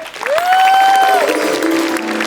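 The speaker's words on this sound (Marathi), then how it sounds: "एकदा जोरदार टाळ्या झाला पाहिजेत" Loud, continuous audience applause at a Marathi comedy show, a dense clatter of clapping with a rising, sustained whistling tone over it.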